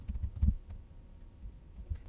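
Soft keystrokes on a computer keyboard while a command is entered for an Angular project, a few quiet clustered taps near the start and more around the end, faint and close with no talk.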